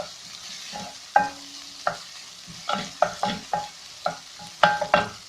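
Tomato paste frying in a pan for a chicken and potato gratin in red sauce, a low close sizzle broken by a series of sharp spoon strokes and scrapes against the pan every half second or so.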